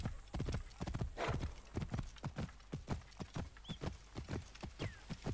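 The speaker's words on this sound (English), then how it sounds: "he's riding faster with his horse?" Rhythmic hoofbeats of a galloping horse in the video game Assassin's Creed Origins pound steadily and close, a brief whinny cutting in once partway through.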